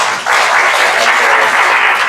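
An audience at a university guest lecture on bearing installation and maintenance breaks into applause, a dense, loud wash of clapping that starts abruptly and holds steady.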